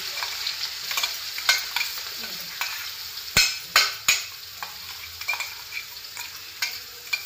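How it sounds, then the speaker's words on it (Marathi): A coarse green chili, garlic and cumin paste fries in hot oil, giving a steady sizzle with repeated sharp scraping clicks of stirring in the pan, close and clear with no voices. "हिरवी मिरची, लसूण आणि जिऱ्याचं ओबडधोबड वाटण करून घेतलं, ते या तेलामध्ये टाकलं"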